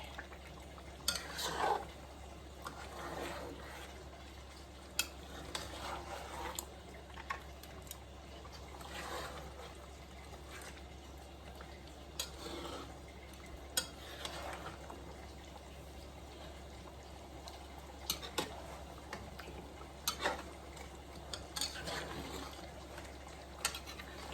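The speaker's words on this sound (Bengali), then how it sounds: "তারপরে আমি চিকেনগুলো মিক্স করবো উপরে নিচে করে যেন মশলাগুলো সবগুলো চিকেনের মধ্যে ঢুকে" Chicken mixed with spices in a pan for a roast, with soft scraping and stirring scuffs and light clinks recurring every few seconds over a low steady hum, quiet and close.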